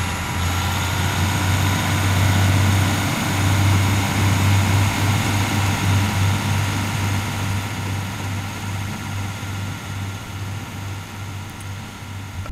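Diesel exhaust of a Class 150/1 train in Train Simulator 2017 on the Gospel Oak to Barking line, a steady low droning rumble with a constant engine hum that holds throughout and eases slightly toward the end, no talk.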